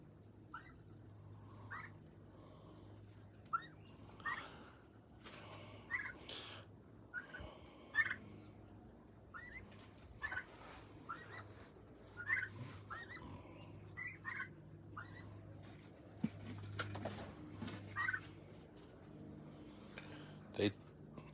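A flock of red Bourbon turkeys gobbles and calls repeatedly outdoors, a steady run of fairly faint, evenly spaced bursts over a low background hum.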